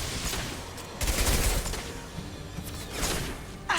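Rapid gunfire from the video game Mass Effect 3, a dense burst of shots with booming low thuds near the start, then ongoing crackling fire and another loud volley near the end, with no clear speech.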